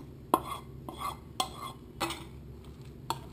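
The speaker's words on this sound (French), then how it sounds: "Je mélange le tout." Potatoes, mushrooms and ham being stirred together in a bowl, with a few soft scraping clinks of a utensil against the dish, spaced irregularly and fairly quiet, no talking.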